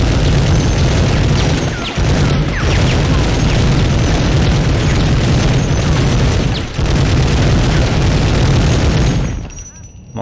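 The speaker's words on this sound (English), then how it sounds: "I think I just have to get a few missiles and just blast it with the missile launcher" Repeated missile launcher blasts in the Medal of Honor video game, dense booming explosions and crashing debris rolling almost continuously for several seconds, loud and close, with a brief cut near the end.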